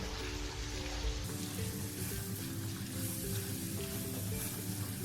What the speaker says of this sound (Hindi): ये प्याज डाला मैंने और ये टमाटर डाल दिया। अब अच्छी तरह इसको मिक्स करेंगे।